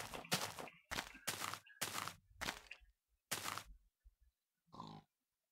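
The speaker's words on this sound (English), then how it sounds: "It's just a pig." A pig in a video game grunts in a run of loud, close, choppy bursts, several in quick succession, then a short pause and one last softer grunt at the end.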